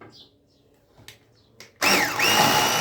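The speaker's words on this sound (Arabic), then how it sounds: "هضرب الخليط لحد لما ذوب البيض" Quiet clinks and taps at first, then an electric blender whirs to life loudly, churning chocolate cake batter of eggs and milk steadily with a shifting pitch as it mixes.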